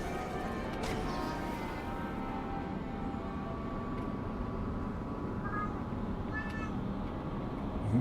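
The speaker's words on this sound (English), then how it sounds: "That's the cat saying hello." A talkative house cat meows a few times indoors at night, faint harmonic calls rising over steady background noise, with no voices around it.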